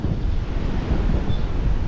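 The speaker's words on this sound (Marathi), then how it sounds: "इकडे समुद्रकिनारा आहे" Wind sweeps along a seashore beside a temple in Devgad during the monsoon, a steady broadband rush with low surf rumbling underneath, no voices.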